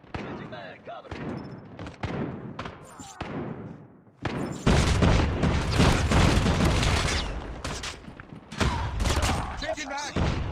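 Rapid hip-fire gunshots from a rifle in the mobile shooter game Call of Duty Mobile, dense crackling bursts building into sustained loud fire after a few scattered shots, with game voice callouts mixed in.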